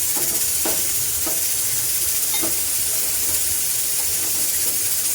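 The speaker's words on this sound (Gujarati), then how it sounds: "અહીંયા શાક પણ ચડે છે આપણું" A steady simmering hiss from a pot of vegetable curry on the stove, with a few faint clinks and bubbling pops scattered through.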